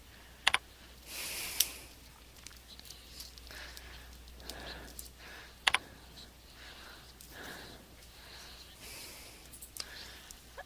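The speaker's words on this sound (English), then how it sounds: "I'm using the arrow keys to navigate between them as I would for a normal slideshow" Computer keyboard arrow keys are pressed to step through a PowerPoint slideshow, a few sharp, isolated clicks spaced seconds apart over a quiet room hiss and faint murmuring.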